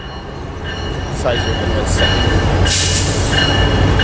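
A Metrolink commuter train rolls in and slows to a stop, its wheels squealing in high, sustained tones over a low rumble, with a person talking close by.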